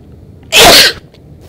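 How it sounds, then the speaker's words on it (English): A single loud, forceful sneeze bursts out abruptly for about half a second, standing alone against a quiet backdrop. "it was a powerful sneeze"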